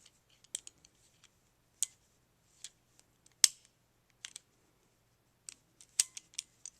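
Metallic clicks from a Mauser Kar98k rifle bolt as its parts are reassembled and turned clockwise, a dozen or so sharp, close, isolated snaps spread unevenly over a quiet background.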